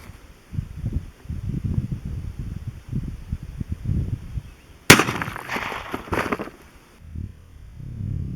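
A single sharp rifle report from a .223 firing a 55-grain MFS hollow point into a ballistic gel block outdoors, a loud crack with a short decaying tail after quiet rustling.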